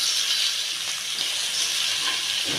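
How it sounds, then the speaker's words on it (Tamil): Tomatoes tossed into hot oil in a pan while cooking tomato rice, giving a steady, loud broadband sizzle and hiss that holds evenly throughout with no talk over it. "அதுக்கப்புறமா நம்ம தக்காளியை போட்டுக்கலாம்"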